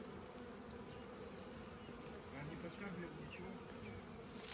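Honeybees fly around beehives on a spring day, a soft continuous buzzing hum with individual bees passing close now and then, fairly faint overall.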